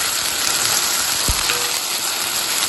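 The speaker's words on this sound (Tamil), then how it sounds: "வெண்டைக்காய் போட்டாச்சு நல்லா வெங்காயத்துக்குள்ள சேர்த்து அதை வதக்கிட்டு" Okra sautés with onions in a pan, a steady bright sizzle filling the whole moment with a single soft knock partway through, close and fairly loud, no talk.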